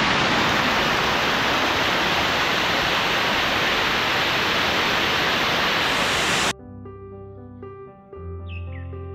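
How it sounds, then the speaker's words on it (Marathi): A jungle waterfall on the Adrai trek roars loud and close for several seconds, then cuts off abruptly, giving way to quiet tonal sounds and a faint bird chirp. "हे वॉटर क्रॉसिंग नाही, धबधबाच आहे आता."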